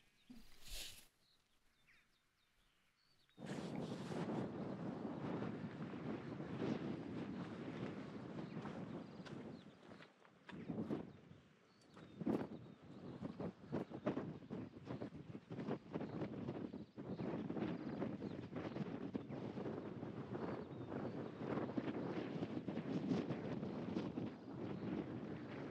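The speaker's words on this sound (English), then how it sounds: "It's very windy today." Strong wind blowing across a hillside on a walk up Pendle Hill, heard as a loud, continuous roar and buffeting against the microphone that rises and falls in gusts, with a brief quieter moment at the start.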